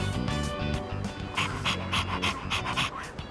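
A dog in the Persona 3 Reload game pants rapidly and rhythmically, with quick, breathy in-and-out puffs close up and no talking.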